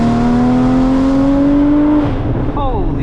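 A Porsche Cayman GT4 engine roars loudly, climbing in pitch as the car accelerates hard in first gear, then briefly drops and climbs again as the gear changes, heard from inside.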